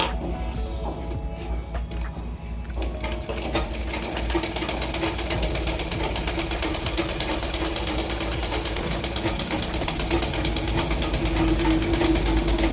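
A sewing machine stitches blouse lining in a steady, fast mechanical whir, picking up speed and loudness after a brief start, running continuously and close.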